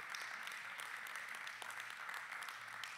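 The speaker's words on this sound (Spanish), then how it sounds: "Si ese aplauso es para Jesús, qué pobrecito." Faint, thin applause from a church congregation during a sermon, a light steady patter of clapping heard from a distance for a few seconds.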